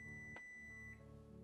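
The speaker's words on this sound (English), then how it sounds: "Oh gosh, we got a pie timer." A kitchen oven pie timer beeps in short bursts, a brief tone then a longer repeated beep near the end, loud and close against a steady electrical hum.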